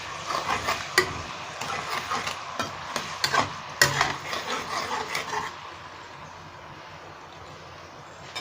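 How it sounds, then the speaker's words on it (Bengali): Ginger-garlic paste is stirred in a pan, a series of uneven scraping clicks and taps from the utensil over a faint sizzle, quieting after a few seconds. "এটাকে আমি নাড়বো একটু।"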